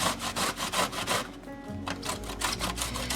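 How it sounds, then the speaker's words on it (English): Summer squash rubbed back and forth across a metal grater, giving a series of rhythmic rasping strokes, close and fairly loud, with a brief pause midway before the scraping resumes. "I'm just going to take that end and we're just going to grate it"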